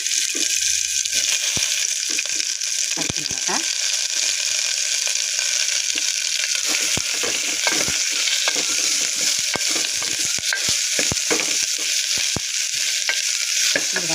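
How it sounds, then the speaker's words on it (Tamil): Steady, bright sizzling of onions frying in hot oil, with occasional crackles and pops and stirring sounds, no voices. "பொறிஞ்சிருச்சு நறுக்கி வச்ச வெங்காயத்தை சேர்ப்போம்"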